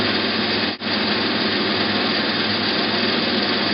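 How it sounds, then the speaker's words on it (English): Steady, loud mechanical whine of a drill running continuously as it bores through pipe, with one brief dip partway through before it resumes at full power. "As long as the chips are coming out, the drill is doing its work."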